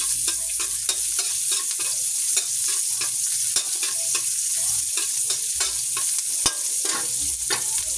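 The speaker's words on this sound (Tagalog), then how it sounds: "So, gigisa ko yung sibuyas." Onions sauté in hot oil in a pan, a loud continuous sizzle close up, broken by frequent quick scrapes of a spatula stirring throughout, with no voices.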